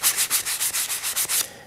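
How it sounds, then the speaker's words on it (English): Rhythmic back-and-forth sanding on early 20th-century wooden chair parts, about a dozen quick rasping strokes close by, steady and even. "I'm sanding up these parts."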